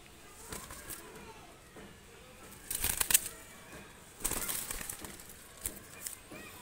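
Two released pigeons with milk-white eyes beat their wings in two short, close flurries of flapping, while someone talks quietly around them.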